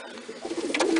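Pigeons coo in a loft, a few soft throaty calls rising in a short burst, close by.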